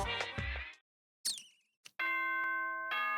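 Danganronpa: Trigger Happy Havoc morning announcement chime: a bright two-part electronic ding-dong melody that rings out clearly and sustains with steady tones after a brief pause, heard alone without talk.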